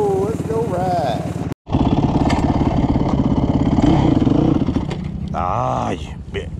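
A dirt bike rides a dirt trail at the Carolina Adventure World off-road park, its engine revving up and down loudly and close by while people talk over it.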